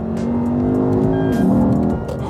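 A loud 2008 Lexus IS F V8 engine roars close by, pitch climbing and shifting as the car accelerates hard, with a deep, rumbling exhaust note throughout.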